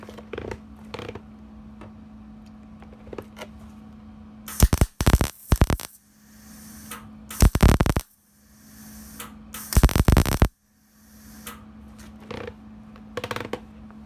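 MIG tack welds on a VW Beetle rear quarter panel sound as three short, loud crackling buzzes, each about a second long and spaced a few seconds apart, over a quiet shop hum with faint clicks.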